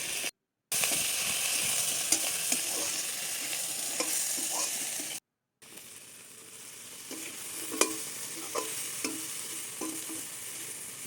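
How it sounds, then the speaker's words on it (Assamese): Hyacinth beans fry in a little oil with salt and spices while a utensil stirs them, bringing a steady sizzle and scattered scraping clicks of the spoon against the pan, heard alone at close range. "উৰহীখিনি অলপ তেলত ফ্ৰাই কৰা হৈ গ'ল"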